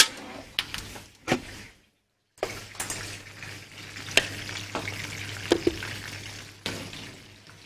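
Aubergines fry and sizzle in a pan with steady crackling, broken by stirring clatter and a brief silent gap, close and continuous.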